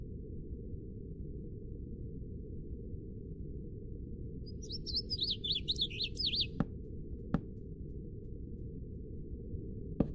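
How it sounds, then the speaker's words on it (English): Minecraft birds chirp in quick high twittering bursts partway through, clear over a steady low game-ambience hum, followed by a couple of sharp clicks. "I remember those birds making so much noise."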